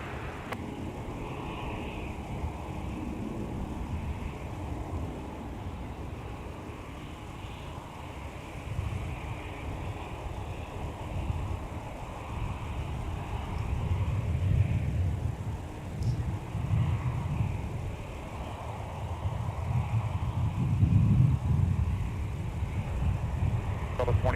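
A Delta airliner takes off from runway 30 left at Minneapolis–St. Paul airport, a distant low rumble of jet engines swelling gradually and rising louder toward the end, with wind noise over the microphone.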